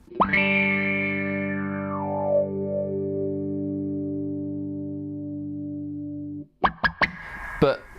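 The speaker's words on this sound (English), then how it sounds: "It's probably not the sort of thing you'd play with an envelope filter, but I just want you to hear the sweep of it." Electric guitar played through a KO Amps Interstellar Burst envelope filter: one sustained chord whose tone sweeps sharply open and then slowly closes as it rings out, followed by a few short plucked notes.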